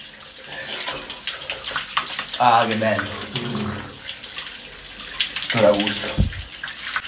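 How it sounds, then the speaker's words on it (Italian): Shower water runs steadily throughout, splashing and hissing up close, with a voice talking and exclaiming over it. "sotto la doccia, sotto la doccia, sotto la doccia"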